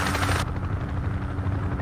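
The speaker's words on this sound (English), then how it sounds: "Chopper." A helicopter in a first-person shooter game: loud steady rotor chop close by, with a brief burst of gunfire noise at the start and again at the end.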